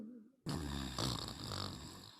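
Deep rhythmic snoring from a man sprawled under a tavern table, loud and close, drawn-out rasping breaths repeating steadily with no talk over them.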